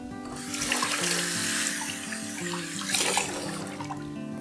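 Water runs steadily from a tap into a sink while china dishes are washed by hand with a soft rag, with faint clinks of dishware under the continuous flow and no talking.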